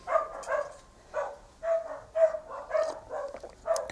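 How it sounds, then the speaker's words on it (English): Dogs at an outdoor live music gathering bark and yip in a series of short, repeated calls, moderately close, with brief pauses between bursts and no talking. "The dogs are barking"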